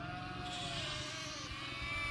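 Flock of ewes and lambs bleating during a drive along a road, overlapping calls drifting in and out over a low rumble, fairly faint and distant.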